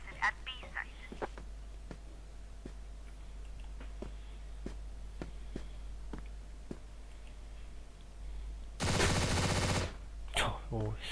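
TMP submachine gun firing in Counter-Strike: a string of sharp, evenly spaced shots, fairly quiet under a steady game hum, followed by a loud, dense, sustained burst near the end and a couple of trailing cracks.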